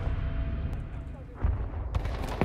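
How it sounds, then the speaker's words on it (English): Dynamite explosions in a video game, a few sharp blasts with rumbling tails, the last two close together near the end, under a talking voice. "I'm just, you know, tossing dynamite everywhere."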